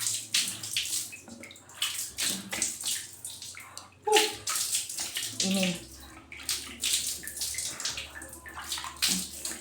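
Tap water running into a basin, a steady splashing gush that surges and dips in pulses, close and moderately loud, with faint voice murmurs underneath.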